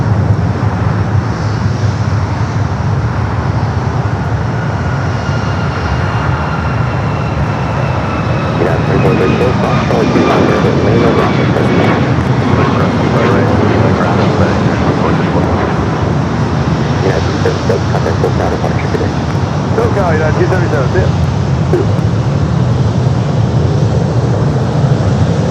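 A Boeing 737 MAX 9 airliner takes off at Los Angeles International Airport with a loud, continuous jet roar. The roar builds and holds for the whole stretch, and a faint voice can be heard at times.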